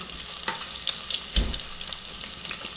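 Garlic and three red chilies sauté in hot oil, giving a short, steady sizzle with light stirring clicks and one soft knock partway through.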